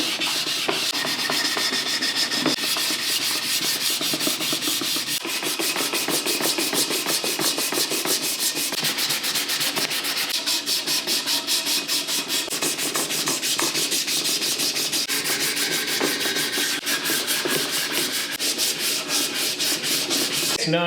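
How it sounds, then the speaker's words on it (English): Sandpaper wrapped around a sanding block rubs along the edges and handle of a wooden charcuterie board, a continuous, close, rasping scrub with fast back-and-forth strokes and no pauses. "taking just some sandpaper, wrapping it around this sand block, and I'm just doing the edges and doing in the handle."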